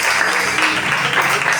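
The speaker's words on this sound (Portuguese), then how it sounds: "Aplauda Jesus bem forte." A church congregation at a family worship service applauds loudly, a brief dense burst of clapping filling the space with no pauses.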